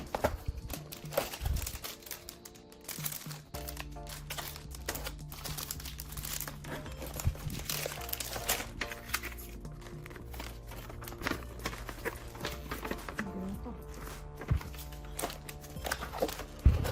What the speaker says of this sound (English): Let's open the box and see what is inside.